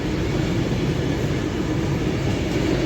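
A Pendolino passenger train running between London and Glasgow passes through Stafford station on the West Coast Main Line, a loud, steady, close roar with no voices.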